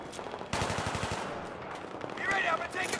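A heavy gun in Battlefield 3 fires a rapid run of evenly spaced shots, loud and close, with a sustained roar of combat behind it.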